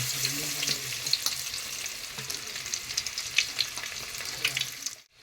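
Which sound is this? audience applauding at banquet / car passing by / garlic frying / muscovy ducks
garlic frying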